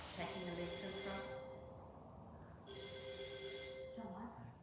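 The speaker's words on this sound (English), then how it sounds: "It's on my phone. Is that your phone?" A mobile phone rings during a yoga class, two bright electronic ring bursts about a second and a half each with a short gap, fairly faint and close.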